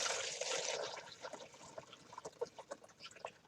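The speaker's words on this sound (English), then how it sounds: "I'm going to pour out the top layer" A liquid top layer is poured off above a white bottom layer in a kitchen chemistry demonstration, starting as a smooth, steady pour that turns into irregular glugs and trickling drips.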